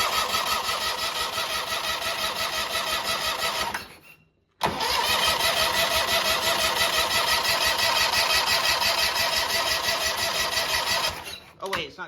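A big riding mower's engine cranks, stutters and falls silent briefly, then catches and runs loud and steady with a rough mechanical clatter before fading near the end.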